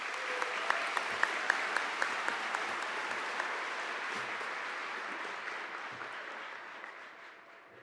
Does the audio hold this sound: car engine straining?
no